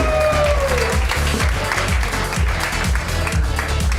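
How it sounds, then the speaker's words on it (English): Applause and cheering from an audience at an improv comedy showdown as three players come to the stage, loud and continuous, with a steady musical beat pulsing underneath. "Let's give a round of applause to these 3 players."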